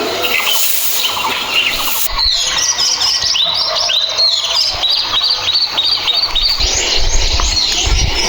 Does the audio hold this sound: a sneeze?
no